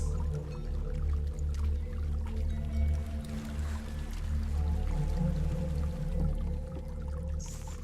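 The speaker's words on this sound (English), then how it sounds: "There's a waterfall." A waterfall in the video game Hellblade: Senua's Sacrifice roars as a steady, dense rushing wash with a deep low rumble, continuous and fairly loud throughout with no talking.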